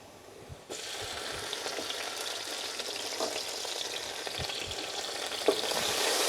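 Prawn biryani masala sizzling and frying in an oven-safe pan, a steady close hiss that grows slightly louder toward the end, with a few soft clinks of stirring.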